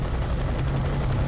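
Helicopter in the shooter game F.E.A.R. 3, a steady close rotor chop with a loud low thrum and a faint high whine, continuous across a short moment.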